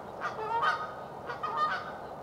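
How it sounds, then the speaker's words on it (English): Geese honk loudly outdoors in two close bursts of repeated calls, nearby and clear over a faint background hiss. "The loud geese are back."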